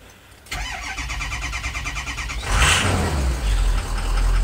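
A 2003 Ford 6.0 Powerstroke diesel with a weak battery cranks over in a steady rapid rhythm for about two seconds, then catches and fires into a loud, rough running roar that settles into a close idle, with no talk.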